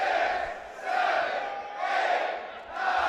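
Arena spectators at a pro wrestling show chant together in a pulsing rhythm, each communal shout swelling then dipping before the next, a large, roomy crowd sound with no single voice standing out.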